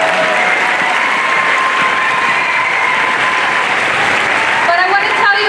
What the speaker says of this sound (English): We can clap for that, that's cool.